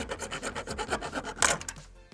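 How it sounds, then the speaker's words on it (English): A hacksaw blade rasps through a small piece of plastic trim on a turbocharged GR86 Hakone Edition, giving a run of quick, close back-and-forth strokes with one harsher scrape near the end before it stops. "I'll just use a hacksaw blade."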